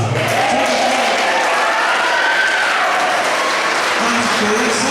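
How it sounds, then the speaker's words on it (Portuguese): A crowd at a community gathering gives the kitchen team loud, dense, sustained applause, a continuous roar of clapping with voices mixed in underneath. "vamos chamar aqui para a gente calorosamente aplaudir a equipe"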